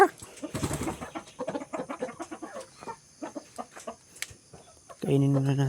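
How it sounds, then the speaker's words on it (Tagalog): Chickens cluck and chatter in quick, scattered bursts nearby, with a louder, busier burst of clucking near the end. "Ito yung mga manok ko."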